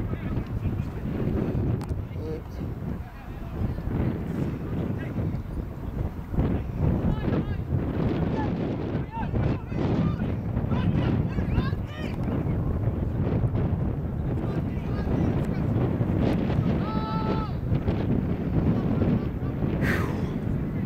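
Strong wind buffets the microphone at a rugby league field, a continuous rumbling roar that rises and falls throughout, with people talking and calling out beneath it.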